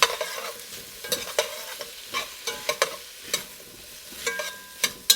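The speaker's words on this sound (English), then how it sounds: "I'd say this is probably about 2 cloves of garlic right there. So we'll stir that in." Garlic is stirred into a pot while cooking beef bourguignon, giving a soft sizzle with sharp, irregular scrapes and knocks of the spoon close by, and no voices.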